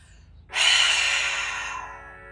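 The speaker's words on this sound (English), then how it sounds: "exhale out completely till there's not an ounce of breath left" A long, forceful exhale through the mouth during a Pilates plank, starting suddenly and tapering off over about two seconds, close and breathy with no words.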